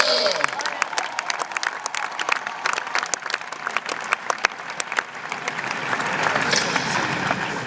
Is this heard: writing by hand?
no